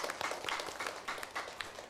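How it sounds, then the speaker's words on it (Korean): A church congregation at a Sunday service claps to congratulate members on their birthdays, a brief burst of steady applause from a room full of people, close and moderately loud. "우리 축하하며 손뼉 치도록 하겠습니다"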